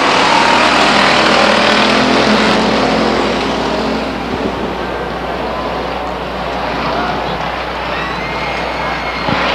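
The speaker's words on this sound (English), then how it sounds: "But right now, we're going to go stock car racing." Stock cars racing at Stockton 99 Speedway, a loud, dense roar of several engines sweeping past close by, swelling at first and then easing into a sustained broad rumble of the field circling the track.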